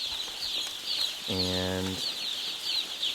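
Dense chatter of about 20,000 chickens clucking and chirping in a barn, a continuous high twittering din with a brief low mechanical tone partway through.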